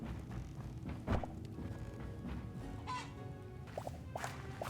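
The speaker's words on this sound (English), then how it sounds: "After that, I placed our chickens in." Chickens in the video game Hytale give faint, scattered clucks and chirps over a steady outdoor farm ambience, with soft footstep-like thuds.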